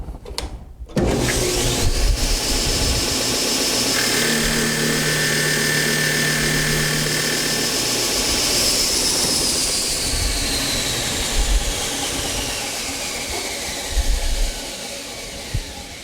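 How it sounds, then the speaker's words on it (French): Machine-shop power sander starts with a thump, then runs at a loud steady whine with a shifting high tone as it sands a workpiece, tapering slightly toward the end, with no speech. "Une fois que ça c'est fait, on peut passer au sablage."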